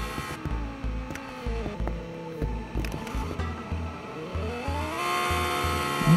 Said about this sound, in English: V10 engine sounds like that.